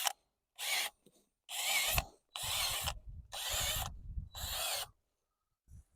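A power drill bores holes in wood to make room for lettuce plugs, coming in five loud, even bursts of whirring with short pauses between them.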